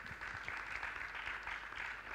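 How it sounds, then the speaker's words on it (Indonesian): Audience applause at a Yogyakarta community event, a steady wash of clapping held for about two seconds at moderate, fairly distant level with no voices over it. "Tepuk tangan sahabat-sahabat semua."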